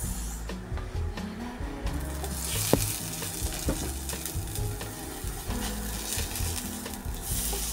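Onions frying in a pan, a steady crackling sizzle with stirring scrapes and a few sharp clicks, close and continuous with no talking.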